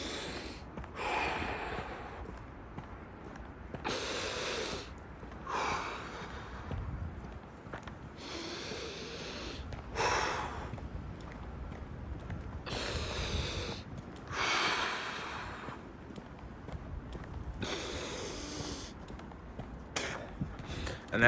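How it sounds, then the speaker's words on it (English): Deliberate, forceful breathing out in the cold, with sharp repeated inhales and exhales in a steady cycle roughly every two to three seconds, close and loud against wind-like background noise. "I just start doing my breathing"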